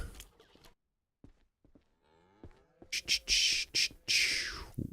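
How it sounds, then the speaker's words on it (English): Cattle mooing in the Southwest Ranch Simulator farming game as cows come up for milking, a drawn-out low call followed by several loud, bright bursts of game sound near the end, with sparse quiet moments earlier. "I love it when the cows come up and make it easier for me to milk them."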